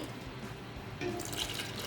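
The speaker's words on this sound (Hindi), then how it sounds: "अब इससे हम शामिल करेंगे पानी," Water is poured into a cooking pot of beef haleem with burst barley grains over a medium flame, a faint trickling and splashing that grows a little fuller partway through.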